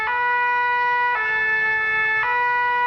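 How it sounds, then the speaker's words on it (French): A toy fire truck's electronic siren wails loud and close, a steady two-tone cycle that repeats about three times and continues without pause. "le camion de pompier. Oui, très sympa ce jouet, sauf qu'il y a une sirène dessus."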